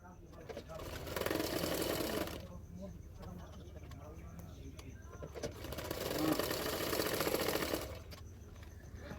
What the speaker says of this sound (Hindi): जो स्लीव होता है वो मैं सिलाई कर रही हूँ